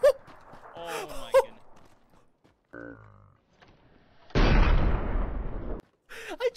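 Sniper rifle gunfire in PUBG erupts as one loud, near shot with a long rumbling tail, framed by short bursts of excited voices and a brief tonal game sound.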